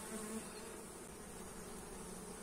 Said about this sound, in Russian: Ну вот видите, пчелки сегодня спокойные.